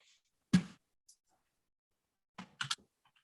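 A few separate bursts of computer keyboard typing, a short clatter of keys, a pause, then a quick cluster of clicks, close and fairly quiet, with no talk.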